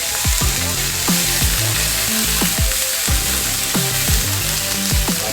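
Peppers frying in a hot pan alongside hot dogs and onions, a steady loud sizzle with occasional scraping stirs and pops, close up with no talk.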